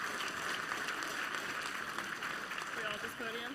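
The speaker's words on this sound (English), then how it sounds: "Round of applause to Tokyo Style." Audience applause at PAX West 2017 for the improv group Tokyo Style, a steady wash of clapping from a crowd, with a voice speaking over the end.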